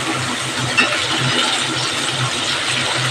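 Vegetables go into a pan of lightly fried onions, giving a loud, steady, close sizzle that runs unbroken from start to finish.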